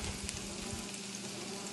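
An omelette fries on the griddle plate of a Ninja Foodi XL grill, a steady close sizzle with a soft crackle throughout and no talking.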